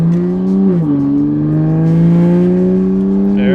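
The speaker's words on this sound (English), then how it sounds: "we're just gonna have John drive the car" A car engine revving steadily while being driven, a loud close drone that climbs in pitch, dips briefly, then rises again and holds, with no talking.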